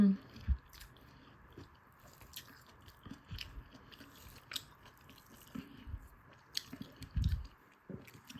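Someone eats home-cooked food from a friend's house, chewing close and quietly, with soft wet bites and squishy crunches coming in irregular bursts amid a faint background hum.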